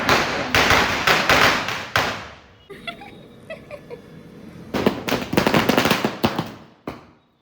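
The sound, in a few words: string of firecrackers exploding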